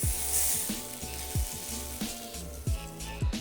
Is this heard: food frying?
yes